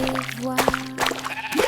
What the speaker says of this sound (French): Il bêlait bruyamment et remuait la queue